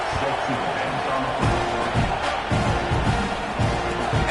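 Football stadium crowd at a Florida game, a steady broad roar with some rising murmurs and scattered shouts, loud and continuous through the whole stretch, a touch subdued.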